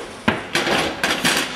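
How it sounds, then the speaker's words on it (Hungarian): Cast iron pan supports of an Electrolux EHG 6435 X built-in gas hob being lifted and set down, giving a quick series of hard metallic clanks and knocks with no voices. "azok öntött vas edénytartók"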